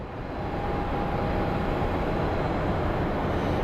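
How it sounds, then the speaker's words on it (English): A jet airliner departing Phoenix Sky Harbor airport, a steady broadband engine roar with a thin whine, holding constant and fairly loud throughout with no talk. "another plane departing."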